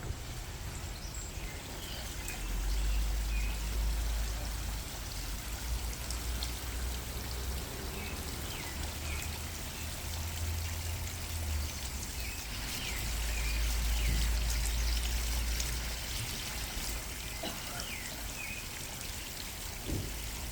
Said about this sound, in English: All the birds chirping and the water running.